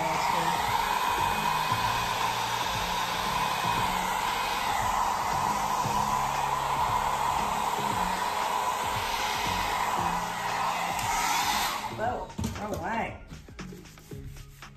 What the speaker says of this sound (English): I'm actually just gonna use the blow dryer to